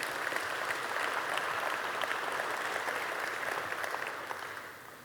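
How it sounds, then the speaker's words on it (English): A sizable keynote audience at a pizza expo applauds in a steady, even roar of clapping that fades a little toward the close. "So let's give a round of applause to Willie Owens."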